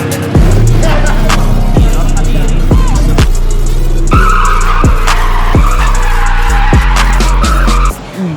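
Drifting car on a Pampanga track, its tyres skidding and squealing in repeated loud bursts close by, with the engine roaring underneath throughout.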